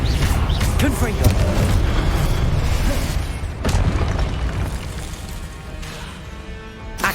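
In the Hogwarts Legacy video game, a Confringo blasting spell explodes amid continuous dense, booming game noise with crashes and impacts throughout. A voice calls out spell names over it.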